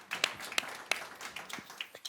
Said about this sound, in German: Ja, danke für den Applaus